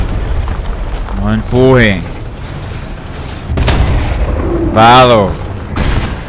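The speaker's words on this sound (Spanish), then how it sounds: "se me está disparando, me está disparando de allá abajo" Enemy tank guns firing in War Thunder sound as a couple of sharp, booming shots between stretches of Spanish-speaking voices that stay loud and close over a low rumble of background noise.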